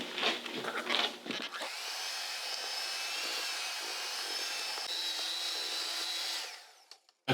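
Mint-flavoured keto parfait filling being mixed: a steady, high motor whir runs for several seconds and then winds down, after a few brief clatters at the start.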